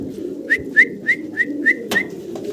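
A series of about six short, evenly spaced pigeon calls from a pair of yellow homer pigeons, close and clear over a steady low background rumble, with no talking.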